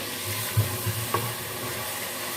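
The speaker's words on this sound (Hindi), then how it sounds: "मसालों को हम भून लेते हैं 4 से 5 मिनट के लिए।" Whole spices and ground masala, coriander and cumin powder among them, roast in a pan for Lahori white chickpea curry, giving a low steady sizzle with a few soft stirring scrapes, close by and quiet.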